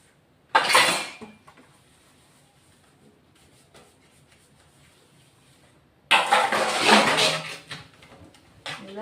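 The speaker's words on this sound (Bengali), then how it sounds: "এখন এই যে মাছের বাসনগুলি এখন মেজে নিচ্ছি এই কড়াই ঠড়াই এগুলা মেজে ঠেজে নিয়ে তারপরে স্নান করব" Metal pots and woks used for cooking fish are scrubbed and handled, giving two loud bursts of close clattering and scraping separated by a quiet stretch with faint knocks.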